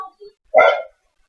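A small female dog gives one short, sharp bark close by, preceded by a couple of faint yips, then silence.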